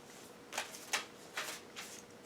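Affirmators cards being shuffled by hand, four short papery bursts of cards riffling and sliding, close and quiet with nothing else around them.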